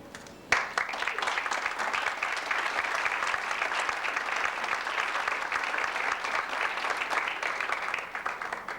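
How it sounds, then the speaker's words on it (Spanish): A formal annual-report ceremony audience breaks into sustained applause, starting abruptly and holding steady as dense, many-handed clapping for several seconds before easing slightly at the end. "A todos ellos los recibimos con un cordial aplauso."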